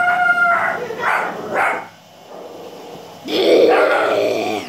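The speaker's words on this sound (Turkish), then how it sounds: "Köpek arkadaşlar." A dog gives a few short barks and howl-like yelps close by, in two bursts separated by a brief lull, heard indoors at home.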